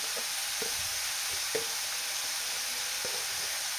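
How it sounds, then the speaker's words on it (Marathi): Shredded cabbage mixed with chili powder and crushed peanuts sizzles steadily in a pan while a spoon scrapes and stirs in several soft, regular strokes; close and continuous, with no talking. "तर आता ह्याच्यामध्ये तिखट आणि शेंगदाण्याचा कूट आहे ते पण मिक्स करून घेते"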